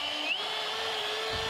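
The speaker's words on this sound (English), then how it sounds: "First, we take this drill bit, we put it in the ground, or we drill out a hole." A power drill fitted with a masonry bit bores a hole into the ground at a home build site, a steady high whine with a brief pitch shift early on, continuous and close, with no speech.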